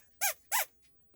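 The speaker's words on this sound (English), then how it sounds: "I've got this little squeak toy also" A small squeak toy is squeezed twice in quick succession, giving two sharp, close squeaks followed by a faint third.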